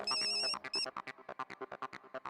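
A telephone rings over a speakerphone, its electronic ringtone sounding in a rapid run of repeated chirping bursts, clear and alone.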